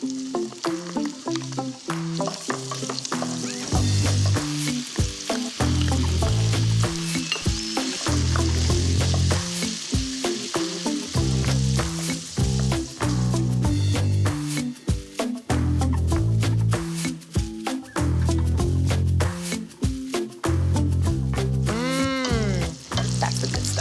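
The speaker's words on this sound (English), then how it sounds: "My meat is all nice and brown, but it's not cooked all the way through." Lamb pieces browning in a hot pan give a loud, steady sizzle with frequent crackles and pops, and occasional scraping and stirring noises run through it without pause.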